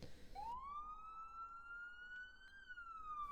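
A single FDNY battalion chief vehicle siren in a video game sweeps up into a clear, sustained electronic wail, then slides down slightly, heard fairly faint and alone.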